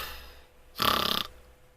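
A woman imitates an old grandmother's snoring with one loud, rough, rasping snort of about half a second, close and alone, between short quiet pauses.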